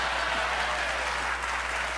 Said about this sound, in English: I think you're supposed to applaud now